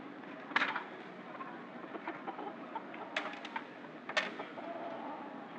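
Roosters and fowl at a cockpit clucking and cooing over a low, steady crowd murmur, with a few sharper close calls breaking out intermittently.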